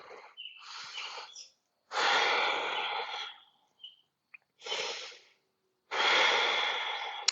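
Several full, slow breaths during a yoga flow, close and clear, with long airy inhales and exhales separated by short silences, no talking.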